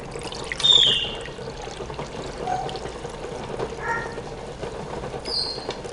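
Water is poured into a pot of pickling brine of water and vinegar for water-bath canning cauliflower, a soft, steady pouring and trickling that runs quietly throughout with faint clinks.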